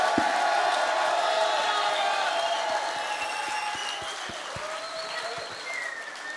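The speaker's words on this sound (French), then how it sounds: "on va les applaudir et les remercier." A large audience at a union strike-solidarity gathering applauds steadily, with a dense wash of clapping and occasional cheers and whoops that slowly fade in strength.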